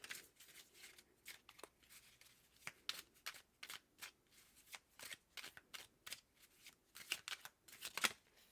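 Tarot cards are drawn and handled from a personal deck, making soft, quiet papery flicks and shuffling snaps in an irregular, rapid series, close and alone without speech.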